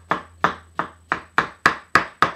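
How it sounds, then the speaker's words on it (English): Eight evenly spaced, sharp knife chops striking a cutting board while vegetables are coarsely chopped for a spring risotto, each hit crisp and close with a quick decay. "Just chop away, chop, chop, chop."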